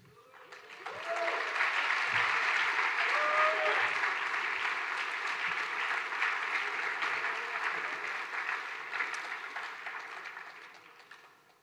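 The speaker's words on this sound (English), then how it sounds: "Let's give them one more round of applause, please." Sustained audience applause at a high school academic awards ceremony, a dense crowd clapping loudly and steadily for about ten seconds before tapering off, with no talk over it.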